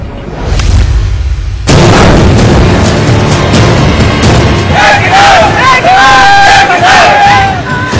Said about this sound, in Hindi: उज्जैन में उग्र भीड़ ने पुलिस पर पथराव किया तो पुलिस ने आंसू गैस के गोले दागे।